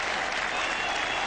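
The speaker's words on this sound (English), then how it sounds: "The England players come out to applaud what really has got to be a moment here of cricket history" Applause from the Headingley crowd at a 1977 England versus Australia Test match, marking Geoffrey Boycott's 100th hundred: a dense, sustained roar of clapping filling the ground.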